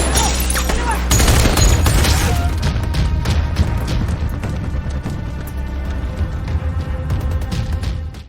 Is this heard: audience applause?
no